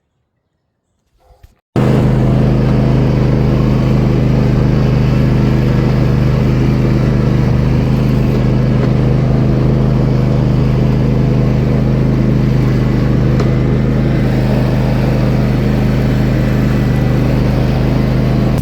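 An RC car runs laps on a backyard oval track, its electric motor a loud, continuous close-up whir after a brief quiet start, steady throughout with no talking.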